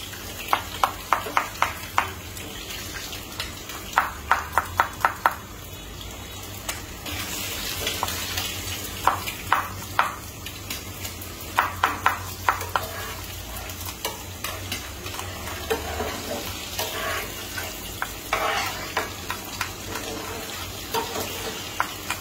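Chopped garlic frying in oil as a tempering for greens: a constant close sizzle under repeated rhythmic spatula scrapes and clacks against the pan, coming in bursts throughout, with no voices.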